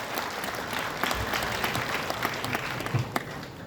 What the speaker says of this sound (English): Yes, the applause should keep coming.